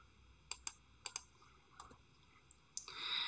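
Several sharp key clicks from a computer keyboard while typing a web address, a few spaced taps near and fairly quiet, ending in a brighter rising hiss.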